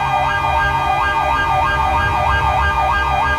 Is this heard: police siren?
yes